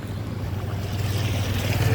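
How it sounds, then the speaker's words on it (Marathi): Steady, loud rush of a flooded, swollen river with a deep rumbling roar and wind buffeting the microphone, continuous throughout with no voices. "पाहू शकता आपल्या नदीला पूर्ण फूग मारले"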